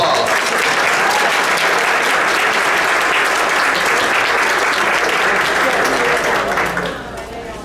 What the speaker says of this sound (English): 30 years deserves an applause.